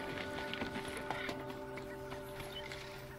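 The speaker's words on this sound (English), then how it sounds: "Let me get on my horse again" In Horizon Zero Dawn, horse hooves clip-clop in a quick, quiet rhythm under a steady hum of game music. There is no talking over the faint gait.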